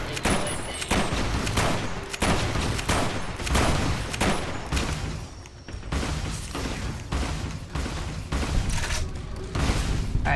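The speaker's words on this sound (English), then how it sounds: "they're shooting plasma" Dense plasma weapon fire in Fallout: New Vegas Old World Blues, rapid bursts of shots crackling almost nonstop for several seconds, loud and close, with a few brief gaps between volleys.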